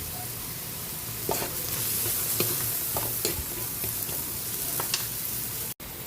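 Okra tipped into a pot of Filipino pinakbet with pork pata, then stirred with a spoon scraping and clinking through a steady sizzle; no talking.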